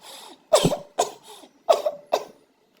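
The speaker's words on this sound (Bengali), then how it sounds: "তোমার কত কাশি হয়ে গেছে" Four short, hoarse coughs in two pairs, close and fairly loud, with brief pauses between them and no talking.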